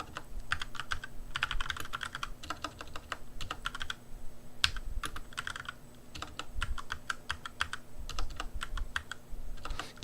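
Rapid keystrokes on a computer keyboard come in bursts with brief pauses, close and fairly quiet, with no talking.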